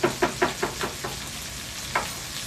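Beef sizzling in a Swiss Diamond wok while being stirred: a run of regular scraping knocks from the utensil over a steady frying hiss, close and moderately loud, with no talking.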